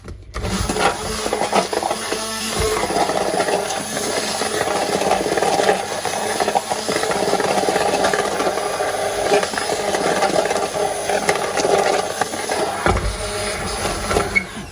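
A blender whirring steadily as strawberry soup is blended with lemon juice and honey, a loud continuous motor drone with rattling that holds throughout and drops off abruptly near the end.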